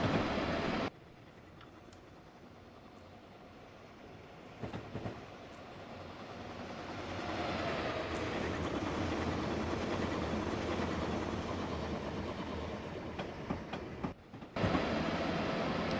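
An electric ACS-64 locomotive in Train Simulator 2016 runs at speed on rails southbound toward New York, a steady rumble with faint clicking rail joints, moderately quiet and with no talking.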